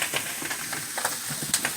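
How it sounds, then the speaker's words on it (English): Vegetables dropped onto lamb in a hot pan, a close, steady sizzle with short crackling bursts as the pieces hit the fat, loud and alone without talk. "we're going to start adding all these vegetables. Add them right on top."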